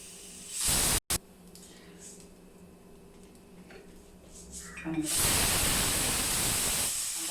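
Steam hisses loudly from a pressure cooker of rice on a stove, a strong burst at the start, a quieter steady hiss through the middle, then a louder rush of steam venting toward the end.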